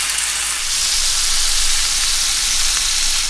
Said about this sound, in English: And then lightly fry in a pan with some oil.